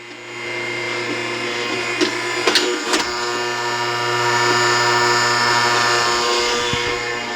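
The carriage of a Hunter TCX625HD tire changer moves with a steady motorized hum that carries strong harmonic tones. A few sharp knocks come near the middle, and the whirring continues close by.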